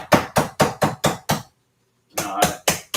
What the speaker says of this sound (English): when the hit on the meat happens, the face is flat with the meat